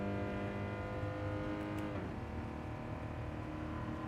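A race car engine in a sim racing game holds a steady, high-pitched drone, then its pitch shifts partway through as the revs drop and climb again, loud and unbroken without any talk.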